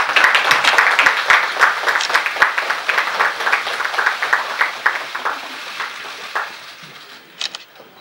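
Applause from party members at a political party leadership meeting, a burst of brisk clapping from a room of people that gradually thins out and fades to a few scattered claps.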